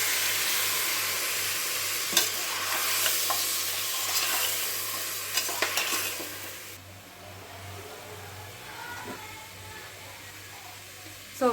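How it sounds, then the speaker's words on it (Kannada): Spiced masala for a village-style egg and chicken sambar sizzles in a pan as water is poured in, with steady frying hiss, scraping stirs and a few sharp clinks, the sizzle dropping off partway through. "ಸ್ವಲ್ಪ ನೀರು ಹಾಕ್ತೀನಿ."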